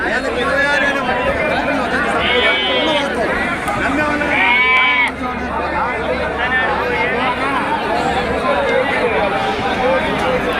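Sheep bleat repeatedly amid a busy crowd at a sheep and goat market, with constant chatter and people talking all around, loud and close in a crowded outdoor setting.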